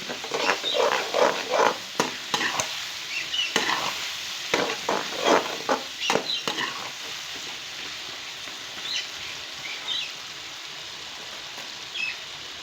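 Fish pieces go into a pan of softened tomato masala for fish curry, with loud clanks and scraping stirs in bursts over a hissing sizzle, then the frying settles into a quieter, steady simmer-crackle.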